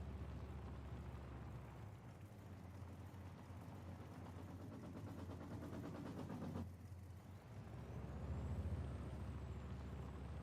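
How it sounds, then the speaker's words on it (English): A large truck rumbles and hisses nearby during harvest, with a loud air-brake release partway through before the heavy engine noise swells again. "Hey, I see a truck."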